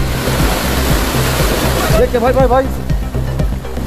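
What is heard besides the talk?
fast-flowing floodwater after heavy rain in Hyderabad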